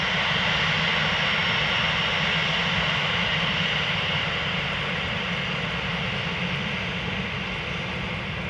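Airliner jet engines roaring during a slow takeoff at Amsterdam Schiphol Airport, a loud, continuous, broadband rumble heard up close with no break.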